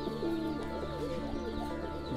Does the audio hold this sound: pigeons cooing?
yes